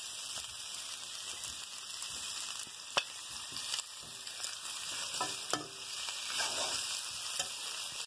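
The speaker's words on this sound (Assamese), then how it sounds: "মোৰ অমিতা আৰু আলুখিনি ভজা অলপ হ'লেই, আধা ভজা কৰিছোঁ।" Half-fried raw papaya and potato pieces sizzle in a pan of hot oil, a steady close crackle with a few sharper pops and stirring clatters, and no talk.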